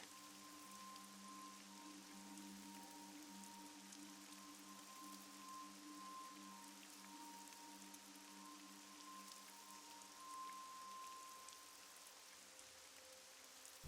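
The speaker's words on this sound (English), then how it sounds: "It's raining." Steady rain pours throughout the AI: The Somnium Files video game scene, a dense, even hiss of drops on surfaces with a faint tonal hum underneath, continuous and moderately loud with no talking.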